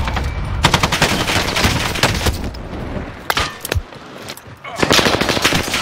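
Rapid bursts of automatic gunfire from the Warzone video game on Rebirth Island, loud and close, with sustained volleys broken by brief pauses and a few sharper single shots.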